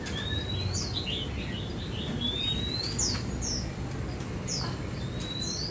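Oriental magpie robins, newly caught birds, give thin, rising whistled chirps at irregular intervals over a steady low background hum, fairly faint and with no talk.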